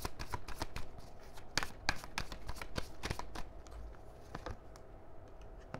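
Tarot cards are shuffled by hand in quick bursts of crisp riffling and slapping, close and loud, then the shuffling slows into a few lighter card flicks toward the end.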